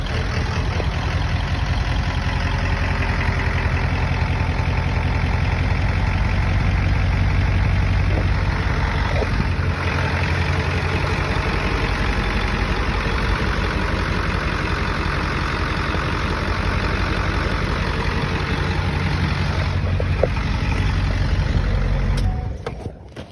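A two-wheel-drive Ford truck with a 7.3L Powerstroke diesel idling with a suspected valve train noise, a steady low diesel rumble with ticking clatter, close and loud for over twenty seconds before cutting off abruptly at the end.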